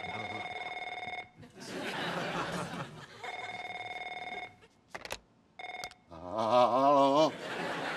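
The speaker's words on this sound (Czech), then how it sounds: "Telefon." A telephone bell rings repeatedly in long regular bursts, fairly loud indoors, with chuckling and voices between rings.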